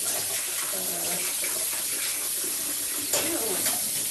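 Water runs steadily from a kitchen tap while something is rinsed under it during apple crumble baking, a continuous close hiss with a brief splash near the end.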